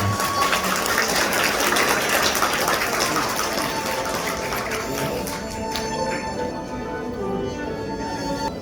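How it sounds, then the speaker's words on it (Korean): Guests at a Korean wedding ceremony break into steady, broad applause that fills the hall, slowly thinning and fading toward the end. "여러분 다시 한번 박수 부탁드립니다."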